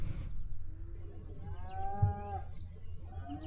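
Cattle mooing near a sandbar on the Missouri River in the morning: one long, drawn-out moo rising and falling over a low rumble of outdoor background noise, moderately close.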